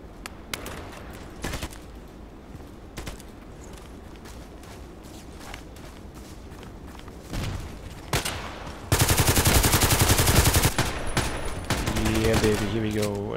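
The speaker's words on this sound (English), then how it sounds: "I just realized that this is an automatic pistol." APS automatic pistol fire in the shooter Contract Wars: scattered single shots and footsteps build into a loud, sustained rapid burst near the end, with game noise underneath throughout.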